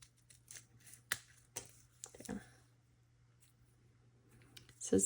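Several crisp snips of scissors cutting paper, spaced irregularly with rustling in between, close and fairly quiet.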